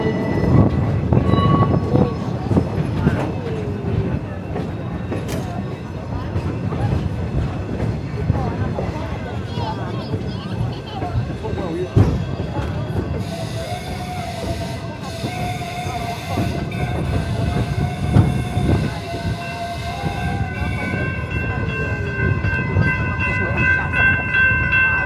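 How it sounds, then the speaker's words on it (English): Roaring Camp Railroads train in Santa Cruz pulling forward onto a triangle of track, a steady rumbling rail roll with faint squeals and tonal hiss rising midway, continuous throughout with people talking over it. "Our train's going to pull forward into the giant triangle of train tracks."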